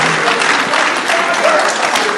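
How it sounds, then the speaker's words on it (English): Warm audience applause fills a book launch event, a steady, dense wash of clapping from a large crowd, loud and continuous with some indistinct voices mixed in. "Warmer applause, please."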